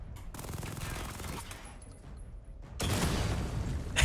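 Rapid machine gun fire from a video game, dense continuous bursts with a brief lull in the middle before a louder, heavier stretch of gunfire resumes.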